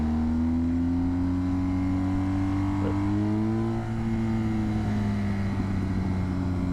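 A powerful motorcycle accelerates in second gear, its engine droning steadily and loudly with the pitch climbing gradually, close and uninterrupted without speech.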